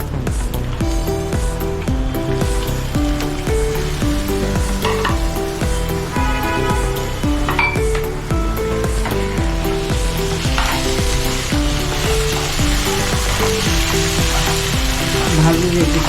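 Tomato and chopped coriander being sautéed for prawn biryani, a steady loud sizzle with stirring scrapes and background music throughout.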